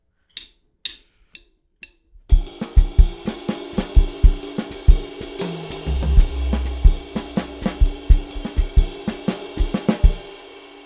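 Sparse percussive hits open, then a busy syncopated Afro-Peruvian festejo drum groove kicks in with steady sharp strikes and low thumps, played loud and close.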